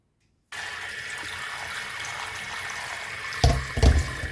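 Water from a kitchen sink tap starts suddenly and runs in a steady close stream while strawberries are washed, with a couple of brief splashes near the end.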